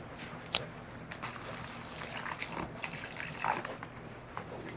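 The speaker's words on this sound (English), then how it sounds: "put it inside the jar, and then pour some brine in the baggie to create a weight" Brine is poured into a Ziploc bag set inside a jar as a weight, giving a faint, uneven trickle with scattered small drips and splashes, close by and with no voices.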